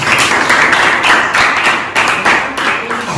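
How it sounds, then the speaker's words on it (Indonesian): Classmates in a classroom clap for a group that has just presented, a dense, brisk patter of hands that runs steadily for about three seconds with no talk over it. "Tepuk tangan dulu untuk kawan-kawan."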